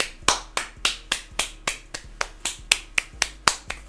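A single person clapping in a sharp, even rhythm, about a dozen crisp close claps spaced roughly a third of a second apart, with no other sound between them.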